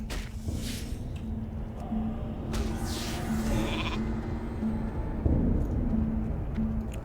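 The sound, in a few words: sheep bleating in World of Warcraft video game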